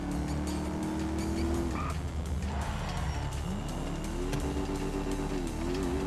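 A big 140-cubic-inch motorcycle revs and speeds along in Grand Theft Auto V, its engine tone climbing and falling with the throttle, heard loud and continuous with tire noise and game sounds around it.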